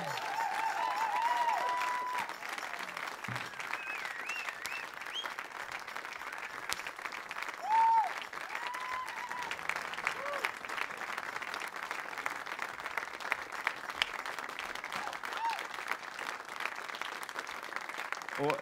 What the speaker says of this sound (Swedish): Varm applåd!